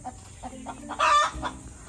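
Rooster crowing and hens clucking on a small farm with ducks, goats, pigs and turkeys, a short loud crow rising over scattered nearby clucks.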